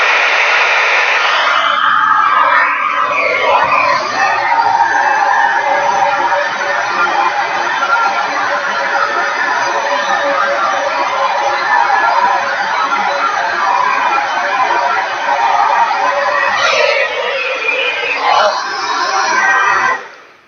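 A hair dryer blows out natural hair on high speed and medium heat, giving a loud, close, continuous airy roar that holds steady for about twenty seconds before cutting off.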